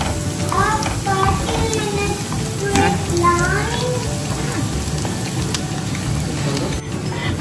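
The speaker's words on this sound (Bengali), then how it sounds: "এখন পেঁয়াজটা দিয়ে দেওয়া হবে পুরোটা" Onions sizzle and crackle steadily in a hot pan, a dense continuous frying hiss under a voice talking throughout.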